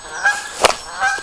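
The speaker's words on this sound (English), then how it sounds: "One of the geese off the canal. Bit of a noisy so-and-so." A goose from the canal near an allotment honks close by in May: a couple of nasal honks around a sharp, loud central call, brief and clear against quiet outdoor background.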